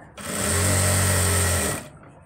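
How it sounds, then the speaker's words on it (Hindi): A sewing machine stitches a salwar waistband in one continuous burst of about two seconds, a loud, close, even whirring hum that starts and stops abruptly. "तो मैं इस पर सिलाई मार देता हूँ डबल"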